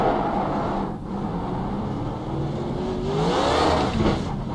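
Race car engine revs and tires spin in the iRacing simulator, a steady rumbling engine drone that rises toward the end with a whining pitch sweep, moderately loud and with no speech.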